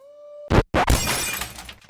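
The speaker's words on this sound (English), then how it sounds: "And then she smashed the window" Window glass smashing in an indie video game: a sharp crash followed by a second impact and a tumbling spray of shattering shards that fades out, preceded by a faint steady tone.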